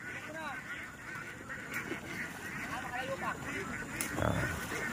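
Domestic ducks quacking and honking in a farmyard pen, scattered nasal calls at mid-distance under a voice talking, with a faint steady background hum.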